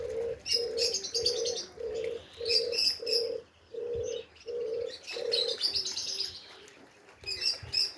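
Repeated low pigeon coos in a steady series, nearby, mixed with higher chirps and tweets from other birds in the background, in 40-degree heat.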